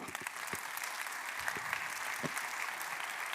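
Audience applause for a speaker introduced by the Dutch Ministry of Foreign Affairs at a Hague Talks climate justice event, a steady distant wash of clapping, faint and even, with a few louder claps standing out.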